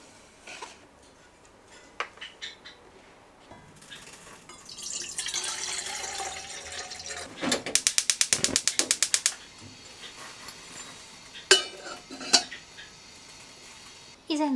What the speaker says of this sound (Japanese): 荷物が届いてたので開けてみます。